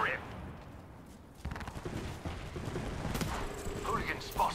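Gunfire in the battle royale game Apex Legends, a burst of shots opening after a quiet stretch and running on in steady rattling bursts over background game noise.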